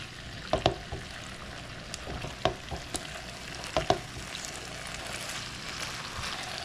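Cheesy chicken fajita pasta bubbling in a pan, with a soft continuous sizzle and a few sharp stirring clacks of a utensil against the pan at intervals, fairly quiet and close.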